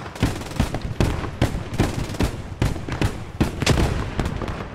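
A grenade goes off in the World War II shooter Post Scriptum, set among a run of sharp, loud blasts and gunfire-like cracks that repeat irregularly and close by.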